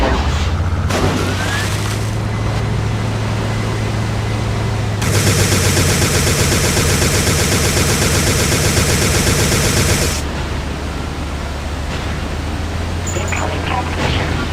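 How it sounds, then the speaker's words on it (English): Distortion mortar cannon shells firing in the video game Recoil, heard as a loud sustained roaring blast lasting several seconds over a constant engine-like hum, with scattered shots and game effects. "Distortion mortar cannon shell."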